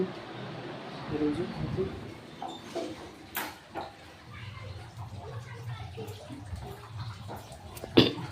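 Water runs and splashes in a flooded bathroom, a low wash with scattered drips and knocks, while people talk over it nearby.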